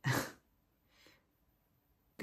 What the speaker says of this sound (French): Vous devez entendre ma Lilou qui ronfle.